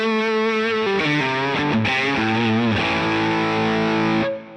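Electric guitar through a Walrus Audio Fundamental Distortion pedal on its LED setting: a loud, saturated chord and a run of sustained distorted notes ringing out close up, then cutting off abruptly near the end, with no voices.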